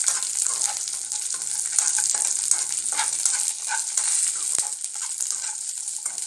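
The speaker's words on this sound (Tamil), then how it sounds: "முந்திரி, பாதாம், திராட்சை எல்லாத்தையும் சேர்த்து நல்லா திராட்சை உப்பி வர அளவுக்கு நம்ம கிண்டி விடணுங்க." Cashews, almonds and raisins are stirred in a pan for sweet pongal, producing a close, hissing sizzle broken by irregular scraping and soft clinks of the spoon. No talking is heard.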